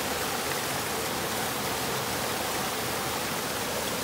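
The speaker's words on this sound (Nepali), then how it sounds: "खोलाको बगेको पानी" Cold water of a forest stream rushes in a constant, dense, hissing wash that stays at an even level from start to finish, with no voices over it.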